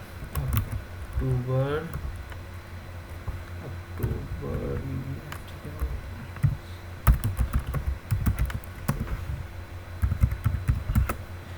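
Clicks of a computer keyboard while dates are entered in an Excel spreadsheet, bursts of close taps separated by pauses, with someone speaking briefly in Hindi between them.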